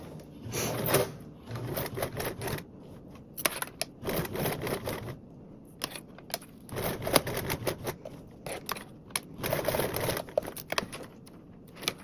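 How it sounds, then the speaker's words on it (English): A sewing machine top stitches around a perimeter and across a zipper on a blanket backpack, running in close, rapid mechanical bursts of stitching with short pauses between runs, fairly quiet overall. "you can sew around your perimeter and top stitch across your zipper"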